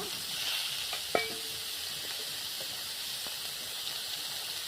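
Eggplant fries in hot oil in a village kitchen, a soft, even sizzle with a sharp clink of a utensil early on and a few faint taps, fairly quiet and without voices.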